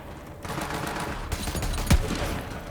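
Magnum gunfire in Borderlands 3 during a fight, with a couple of heavy shots punching through a dense layer of game noise and scattered effects.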